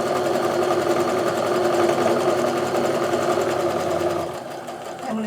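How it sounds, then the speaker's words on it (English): A sewing machine runs steadily stitching a quarter-inch seam on a quilt block, a close, even mechanical whir with rapid needle rhythm that slows and stops near the end. "I'm going to sew along, and I always stop with the needle down in the seam allowance"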